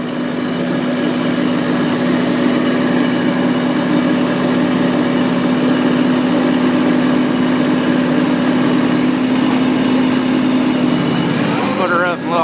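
A four-wheeler engine runs steadily along a ridge path, holding a droning mid-pitched hum at an even, loud level that shifts near the end as the gear changes.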